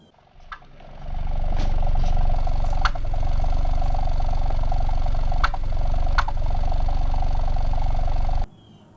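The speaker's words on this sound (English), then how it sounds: "or if you have a car that sputters," A sputtering car engine runs loud and close in a rough, low rumble, broken by a few sharp pops and hiccups, before it cuts off abruptly near the end.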